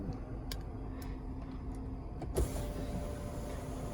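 Inside a 2018 Ford Expedition MAX Platinum, a faint ticking gives way to the power sunroof motor starting, a steady soft electric whir that continues to the end.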